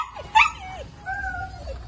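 A one-year-eight-month-old female bully dog at a pet and livestock market gives two short, high whimpers, a brief yelping whine followed by a longer drawn-out whine, close by.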